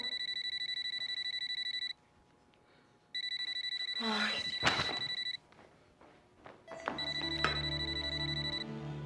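A telephone rings inside a house in a repeating pattern of bright electronic trills, with rings separated by short pauses. A woman exclaims briefly and there is some rustling and movement between the rings.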